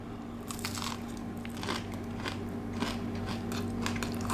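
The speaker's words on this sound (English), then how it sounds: "Crunchy, wow." Close, crisp crunching bites into a deep-fried rice ball with onions in Penang, Malaysia, repeating every half second or so over a low background hum.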